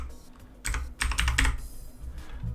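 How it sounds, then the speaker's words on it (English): Security code typed on a computer keyboard: a short burst of quick, close key clicks with a brief pause, loud against a low room hum, no voices. "so I'm going to just type that in now."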